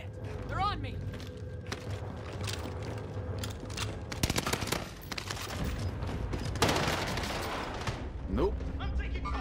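Video game gunfire in a shooter firefight: dense, sustained bursts of shots and booms layered under excited talking, with the firing intensifying in the middle and continuing to the end.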